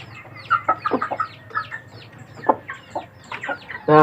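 Chickens clucking close by in a steady, irregular stream of short calls, with no talking.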